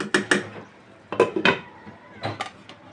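A metal lid is set onto a biryani cooking pot with a few sharp clanks and scrapes in quick bursts, close by and with no talking.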